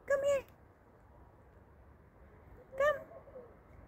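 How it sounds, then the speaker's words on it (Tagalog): A cat meows twice in a garden, two short clear calls separated by a pause of quiet background. "May pusa."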